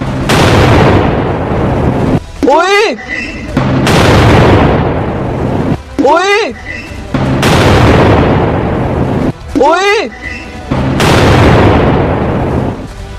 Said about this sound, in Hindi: S-400 कैसे मिसाइल आवाज सुनिए और महसूस करिए उस थ्रस्ट को जिस तरह से आसमान में ध्वस्त किया जा रहा है।